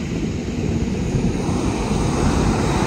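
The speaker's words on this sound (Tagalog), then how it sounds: "Sobrang laki ng alon." Big waves on a stormy sea roaring continuously, with heavy surf and strong wind buffeting the microphone throughout.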